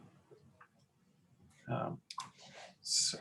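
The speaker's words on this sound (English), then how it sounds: "it was like he's typing" Keyboard typing comes through a webcam call during a medical lecture, faint scattered clicks followed by a few louder bursts of clatter, with soft talk in the background.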